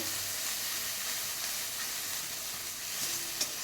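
Steady sizzling hiss from a hot frying pan while thick ground taro is stirred, with a faint clack near the end.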